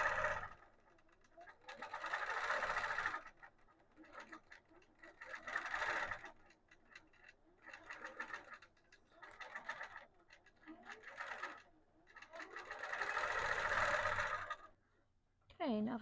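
Longarm quilting machine stitching a Dream Big Dahlia panel quilt, running in repeated bursts of a few seconds each with quieter pauses between, close and steady, with brief talk in the gaps.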